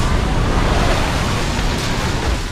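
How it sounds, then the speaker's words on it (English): Heavy surf from large storm waves pounds the shore in a loud, continuous roar with wind noise, broadband and unbroken throughout with no clear individual breaks. "In just 1 second, a huge wave drags him away like a bug."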